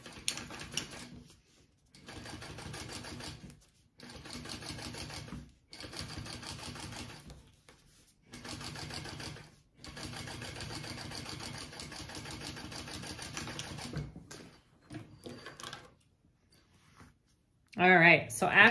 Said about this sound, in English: we're going to top stitch along that band